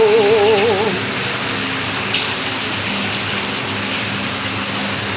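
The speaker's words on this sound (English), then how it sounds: "Heavy rain, oh." Heavy rain pours steadily and loudly nearby, a continuous broadband hiss of water with a faint warbling tone at the start.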